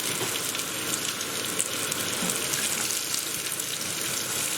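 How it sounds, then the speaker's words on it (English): Onions fry in a pan for an okra and potato masala, a steady, dense sizzle and crackle that holds evenly throughout with no talking. "So we're going to put his onions in now. Okay, we're going to let that fry up."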